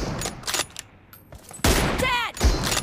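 Gunfire in the PUBG Mobile shooter, a few loud sharp shots in quick bursts with a player's voice talking between and over them.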